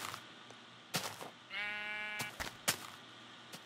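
A sheep bleats once in Minecraft, a short wavering call in the middle of the clip. A few sharp clicks land before and after it against a quiet background.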